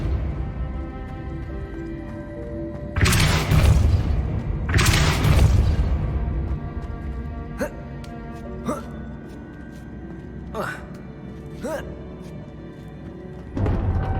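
Pushing spells are cast in Hogwarts Legacy: two heavy whooshing booms in close succession, then several sharp, brief cracks spaced apart over a low steady drone, with one more thump at the end.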